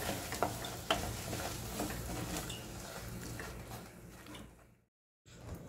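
A thick coconut barfi mixture is stirred with cardamom powder in a pan as the gas is switched off. Steady close scraping and soft bubbling run on with a few sharper clinks, then stop in a short silence before starting again.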